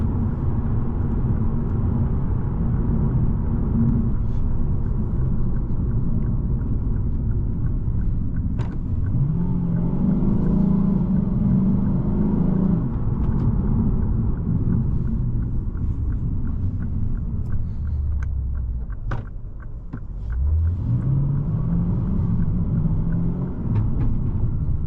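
A 2025 Lexus RC F Final Edition's V8 drones deep and steady from inside the cabin on a test drive, a continuous loud rumble with a couple of swelling throttle pushes and one clear rev rise near the end.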